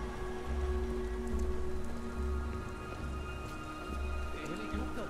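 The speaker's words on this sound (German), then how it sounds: "Gottverdammter Regen. Sieht nicht aus, als ob es jemals wieder aufhört." Rain patters steadily in the background beneath a low rumbling engine and faint hoof-like clopping, soft and continuous, in the video game Beyond: Two Souls.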